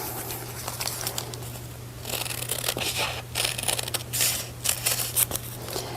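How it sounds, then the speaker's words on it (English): Scissors snip and rustle through fabric, cutting a rough outline around an appliquéd mason jar shape for quilting; steady crisp cutting and scraping noises close up, with no talking. "Cut out around that mason jar."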